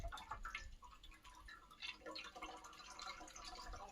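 Water from jamun pulp drips from a squeezed cloth, faint scattered patters and splashes at an uneven rhythm close by, with no speech.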